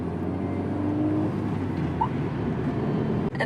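A car travels along a Balkan highway toward Albania, giving a steady low engine and road drone heard from inside the cabin, unbroken except for a brief bump near the end.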